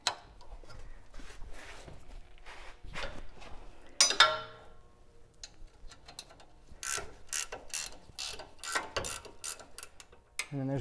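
A ratchet wrench backs off the 19 mm steering arm bolt on a 100 Series Land Cruiser, with bursts of rapid close clicking, a sharp metallic clank near the middle, and brief talk between the bursts.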